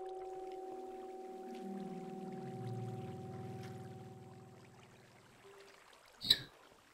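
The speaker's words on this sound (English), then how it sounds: "Water." Flowing water in Minecraft, a steady pouring, rushing wash that holds evenly for several seconds, then thins out before a brief louder burst near the end.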